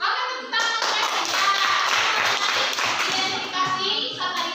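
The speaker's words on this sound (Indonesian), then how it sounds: "tepuk tangan untuk Eski" Classroom applause for a student named Eski: a steady burst of many hands clapping at close range, sustained for several seconds with a few children's voices mixed in.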